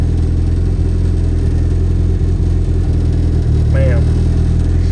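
A stock Honda B18B1 engine running on low boost with fuel added to the map, a loud continuous low engine drone with slight unevenness and a brief rising squeal near the end.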